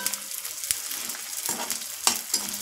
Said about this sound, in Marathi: चांगलं गरम झालं ना की डिंक तळून घ्यायचं